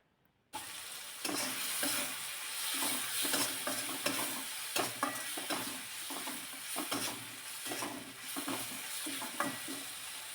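Spiced leftover rice sautéed in a pan with sambar masala, a continuous close sizzle broken by frequent scraping and clattering stirs, no voices.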